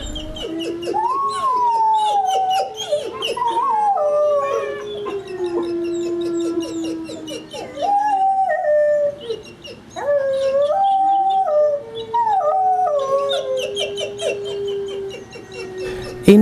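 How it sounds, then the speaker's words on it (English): A dog named Aidan whining and howling at a fence, with drawn-out wavering wails broken by short pauses and other dogs joining in, loud and near. "And again, Aidan whining at the fence."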